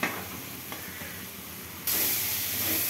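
Spice masala sautés in hot oil for potato and pea ghugni, giving a continuous hiss and sizzle with soft stirring scrapes that turns abruptly louder and brighter partway through.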